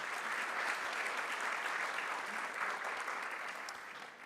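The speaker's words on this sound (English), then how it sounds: "Give them all a big round of applause." A panel-event audience gives a continuous round of applause, a dense and even wash of many hands clapping, fairly quiet overall and easing slightly at the end.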